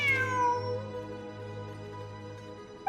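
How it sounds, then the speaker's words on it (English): A cat in the video game Genshin Impact gives one drawn-out, clear meow that slowly fades over a low background hum, with no talking. "Wait, there it is! The cat!"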